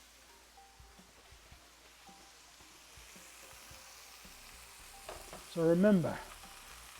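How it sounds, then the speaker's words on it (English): Tomatoes sautéing in seasoned oil and Wagyu drippings make a faint, steady sizzle that builds slightly, with a brief spoken phrase near the end. "I want to cook them in this beautiful, that seasoned oil, that Wagyu drippings. And we're just making sauteed beautiful tomatoes."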